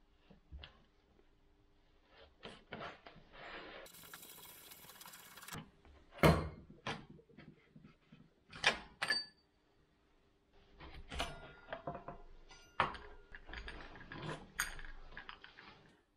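Front wheel axle being unscrewed on a Honda XR400 motorcycle during wheel spacer and seal work: scattered metallic clicks and ratcheting rattles come in short bursts with pauses, close by and fairly quiet, with no talking.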